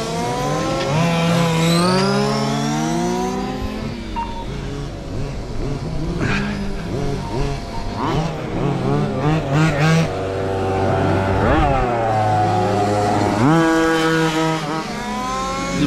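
Large-scale 1:5 RC mini race cars lap a club track at a road-racing event, their small engines whining and revving continuously as several pass near and far, pitch sweeping up and down.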